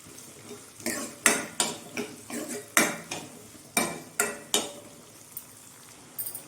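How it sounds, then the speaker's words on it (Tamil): Small onions sautéing in hot oil for chicken kurma, with a spatula striking and scraping the pan in about a dozen sharp, evenly spaced clanks over a faint background sizzle. "இப்போது வெங்காயம் வந்து ஒரு ரெண்டு நிமிஷம் நல்லா வதங்கட்டும்"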